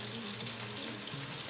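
Asparagus sizzles and fries in a hot pan for a char, a steady close crackle with faint popping that runs without pause.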